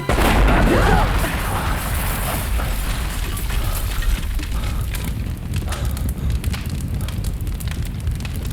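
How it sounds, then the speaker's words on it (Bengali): A bomb blast in a car gives a loud boom at the start, then a sustained roar of fire and crackling debris continues at a steady level with scattered pops. "ওরা বোম বিস্ফোরণে মারা গেছে?"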